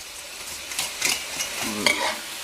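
Pork stir-fried with fried garlic in a pan, a low sizzle broken by a few sharp spatula scrapes and stirring clanks close by.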